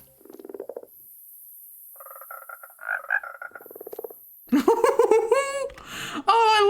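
Frogs croak in a Minecraft forest biome at night, a few short bursts of buzzy, pulsing croaks in the near distance. Excited laughter and giggling break in toward the end.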